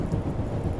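Steady rain on a chilly morning commute makes a dense, low rumbling wash, close and fairly loud, with no voices.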